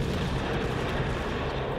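Japanese Isokaze destroyer's guns firing in World of Warships, a dense continuous rumble of booming blasts without clear gaps, loud and sustained.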